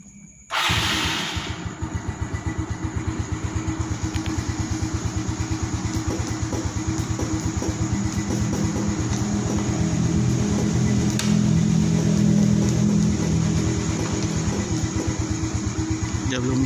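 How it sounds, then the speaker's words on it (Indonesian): A 2012 Yamaha Mio Soul scooter engine starts with a brief burst and then settles into a steady, loud, close idle with an even pulsing rumble that continues to the end. "jadi harus nyalakan mesinnya dulu"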